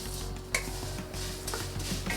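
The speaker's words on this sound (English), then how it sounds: "we're gonna cook the capellini till they are nice golden brown" Capellini pasta cooking in clarified butter in a pot is stirred at medium heat, a quiet close scraping and clinking of a utensil against the pot over a soft sizzle.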